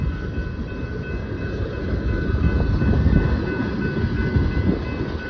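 A tanker freight train rolls past a railroad crossing, a steady loud rumble of wagons with rattling wheel noise and faint crossing-bell tones above it, swelling slightly as the cars go by.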